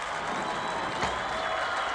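College football crowd at a Saturday night game in Valdosta, Georgia, home of the Blazers, cheering and applauding as a steady, dense roar with no talk over it.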